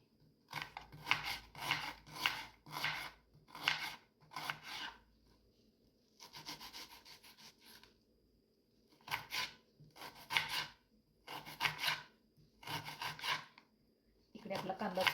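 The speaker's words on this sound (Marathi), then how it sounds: "इकडे आपला कांदा सुद्धा असा कट होत आहे, पाहू शकताय." A knife chops a medium-sized onion finely on a board, in quick bursts of rapid, crisp strokes separated by short pauses, close and clear with no talking.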